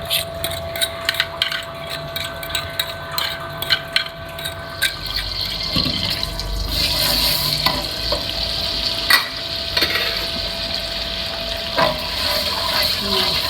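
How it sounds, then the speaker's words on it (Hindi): Chopped tomatoes sizzle in two spoonfuls of hot oil while being stirred for an achar gosht salan, with steady frying hiss and scraping stir strokes close by, gradually building, and no talking. "दो चम्मच तेल लिया, चॉप किए हुए टमाटर इसमें डाल दिए मैंने,"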